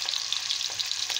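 Lamb liver sizzles in a hot frying pan, a close, steady crackling hiss with small irregular pops, heard alone for a brief moment.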